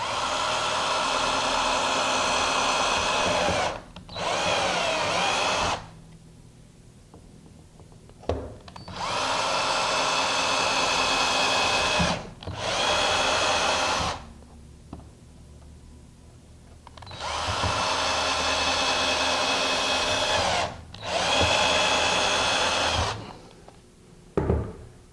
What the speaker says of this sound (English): very carefully drill straight down through the zero clearance insert